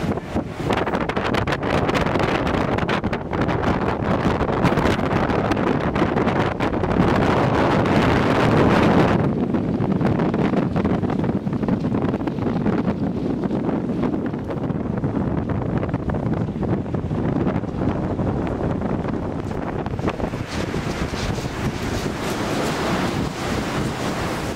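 Strong wind rushes over the seaside cliffs of the Seven Sisters, with surf churning below and gusts hitting the microphone in a loud, continuous roar that eases briefly midway.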